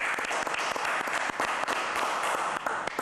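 A crowd gives a big round of applause to welcome reggae artist Lutan Fyah, steady and fairly loud clapping that holds for the full stretch with no voices over it.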